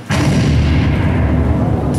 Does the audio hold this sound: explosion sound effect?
yes